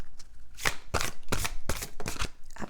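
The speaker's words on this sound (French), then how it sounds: "oracle de Rumi, on va aller regarder avec la première carte." A deck of Rumi oracle cards being shuffled up close, several quick riffling bursts in a steady rhythm, loud and crisp with no talking.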